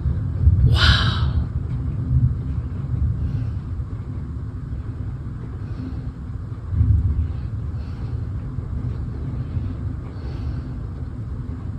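Deep, continuous thunder rumbles through a lightning storm that shakes a house. A louder crack-like swell comes near the start and another low surge around the middle, with no talking.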